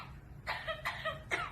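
A parrot imitates a human cough, giving three short raspy coughing bursts in quick succession, close and moderately loud over a quiet room.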